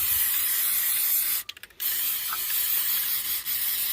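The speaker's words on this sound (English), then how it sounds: "Boy, it doesn't want to spray very well," A can of bed armor coating sprays in a steady, close hiss that cuts out briefly midway and sputters in a few short bursts before resuming, as if the can is struggling to spray, amid logging-equipment repair work.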